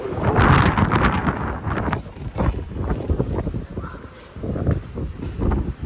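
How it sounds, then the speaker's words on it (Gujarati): Strong wind buffets the microphone in loud, rumbling gusts, steady throughout with no voices. "પવન બહુ ખરાબ છે"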